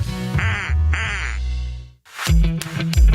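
Loud duck quack sound effect in a radio advertisement for a plumbing and drain service, two drawn-out quacks followed by a burst of brighter, choppier quacking.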